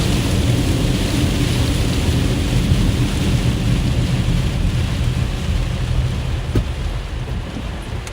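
A Nebraska thunderstorm rumbles with deep, continuous thunder and a steady roar of rain. It is loud and sustained throughout, with no voices.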